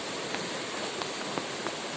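Steady rain falling near a flooded creek in a storm, a constant broadband hiss of water with a few sharper drop impacts, no voices.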